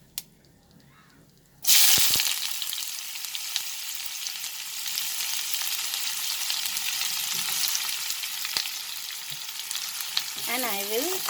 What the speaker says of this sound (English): and I will cook this till the onions become slightly transparent